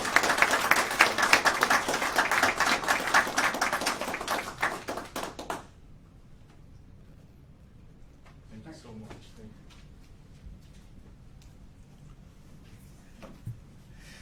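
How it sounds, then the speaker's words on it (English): At a luncheon of honor, a room of guests applauds Andy with fairly loud, dense clapping for about five seconds that stops abruptly, followed by quiet room noise with faint shuffling, taps and distant voices. "So let's give him a round of applause."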